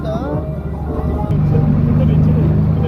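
Jet boat engine droning loudly on a Jeju Island ride, a steady low roar that swells partway through, with people talking over it.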